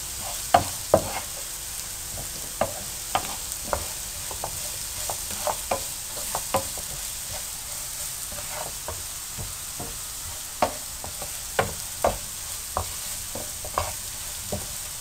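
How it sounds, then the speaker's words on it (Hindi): Okra and potatoes with turmeric are stirred in a pan over a soft, steady sizzle. A spoon lands in irregular sharp clicks and scrapes against the pan. No one talks. "अब इसको अच्छी तरह से मिक्स करें और इनको हल्का सा फ्राई करें।"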